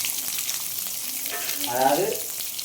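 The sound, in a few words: curry leaves sizzling in hot oil with fried spices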